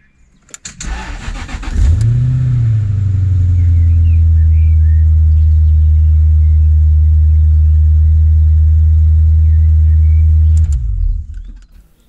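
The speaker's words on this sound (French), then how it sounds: "il ne me reste plus qu'à voir si la voiture démarre toujours" A Jaguar S-type R, started after rewiring its harness, cranks briefly, fires with a rising rev, then settles into a loud, steady, close-up idle for about eight seconds before shutting off.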